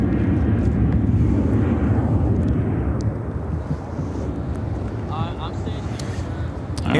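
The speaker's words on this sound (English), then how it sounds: "This is American Airlines 2727 taking off to Omaha on the" An American Airlines Boeing 737-800 bound for Omaha takes off at Chicago O'Hare, a loud, steady broadband jet roar that slowly eases off, with wind buffeting the microphone.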